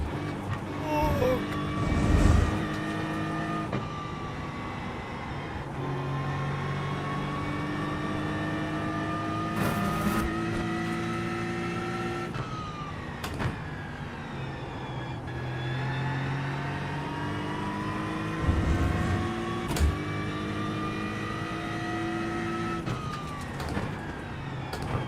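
A GT3 race car engine in iRacing screams loudly and continuously, its pitch climbing through each gear and dropping at shifts, with several full upshift and downshift cycles and a few throaty bursts.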